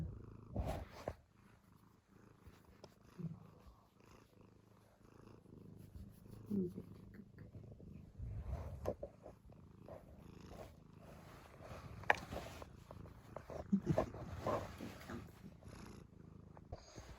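A soft, steady purr from a female cat runs throughout, close to the ear, with a few faint rustles and small movements on top.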